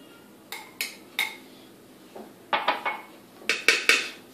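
Meat mixed with cumin, garlic, lemon and olive oil in a pot for Marrakech tanjia, clinking in a series of close metallic knocks and scrapes in small clustered groups.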